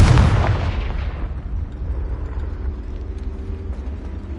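A Confringo blasting spell detonates in a Harry Potter video game with a loud, booming burst at the start, its rumble decaying over the next few seconds into a low, lingering tail.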